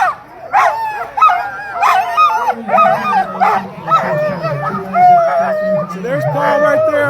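Sled dogs in teams held before a race at the Fur Rondy event in Alaska bark, yip and whine in an excited, overlapping chorus, loud and close, with crowd noise beneath.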